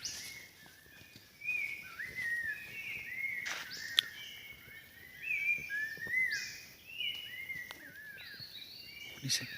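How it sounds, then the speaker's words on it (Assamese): Melodious whistled phrases of an oriole sing repeatedly in a forest setting, fairly near and clear, over a steady background hum of crickets and insects. "চৰাইজনীক অসমীয়াত কয় সখীয়তী আৰু ইংলিছত কয় অৰিয়েল"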